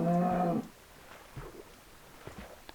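A Minecraft cow lets out a short, low moo at the start, fairly loud and close, then soft footsteps and faint game ambience follow.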